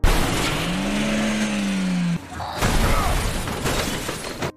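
A car shot at and crashing into a forest: a loud, sustained engine whine cuts off abruptly, then a burst of rough crashing, tearing noise follows, close and heavy.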